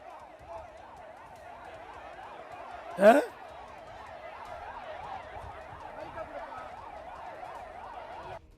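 An ambulance siren wails in a quick, steady rise-and-fall cycle through the whole stretch at moderate volume during a political speech, with crowd murmur beneath and one sharp shout cutting in briefly partway through.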